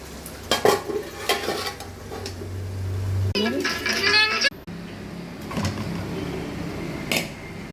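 Tamarind rice being stirred and fried in a pan, with scraping, clanking strokes and a soft sizzle in bursts, partly under a voice talking nearby.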